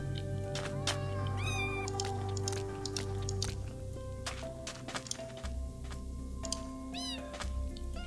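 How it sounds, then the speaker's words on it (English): Minecraft cats meow repeatedly in rising and falling bursts, several close and clear over a steady low game ambience, with occasional soft squishy clicks and drips between the calls. "So we have 3 cats."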